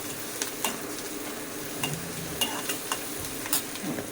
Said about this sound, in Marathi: थोडासा लालसर भाजून घेऊ कांदा.